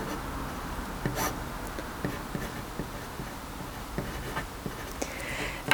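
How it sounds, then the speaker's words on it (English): Pen strokes scratch steadily as a maths fraction is written out, faint quick ticks and taps of the pen landing in an irregular rhythm against quiet room noise, with no talk. "I have to write it out again."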